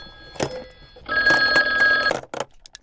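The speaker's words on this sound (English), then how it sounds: "Oh, phone's ringing." A telephone rings in two bursts: a short trill, then a longer sustained electronic ring lasting about a second, clear and close, followed by brief faint clicks.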